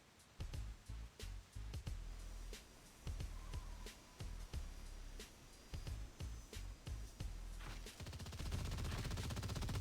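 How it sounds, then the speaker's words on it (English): Rapid bursts of gunfire ring out inside a cathedral in the Marvel Heroes video game, loud repeated shots in irregular clusters with some whooshing effects, ending in a denser continuous barrage. "Does a cathedral normally have gunfire?"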